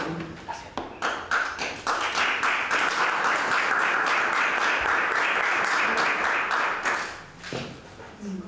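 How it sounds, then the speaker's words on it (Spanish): An audience at an award ceremony for short stories and poetry breaks into applause, starting with scattered claps that swell into sustained clapping before tapering off. "Un fuerte aplauso para él."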